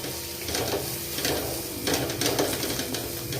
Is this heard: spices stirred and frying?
yes